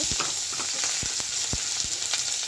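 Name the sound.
frying bottle gourd leaves in a pan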